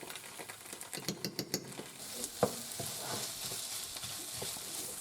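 Tomato paste sizzles in a pan of sofrito for bolognese while being stirred, with scraping spoon strokes early on over a steady, close frying hiss that carries on to the end.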